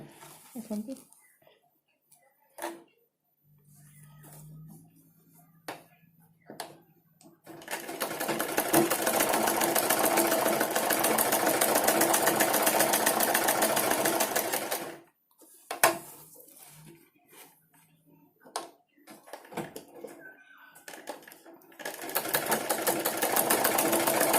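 A sewing machine stitching a blouse runs in a long steady whir for several seconds, stops, then starts again after scattered clicks and handling noises.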